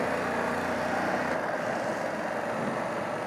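A BMW F 850GS Adventure motorcycle ridden off-road over gravel, its engine and wind roar loud and steady throughout, the tone shifting slightly partway through.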